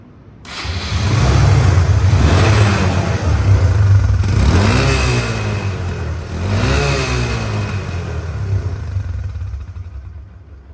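A secondhand Hero Ignitor motorcycle in showroom condition starts and idles loudly nearby, revving up twice with rising pitch before settling and fading.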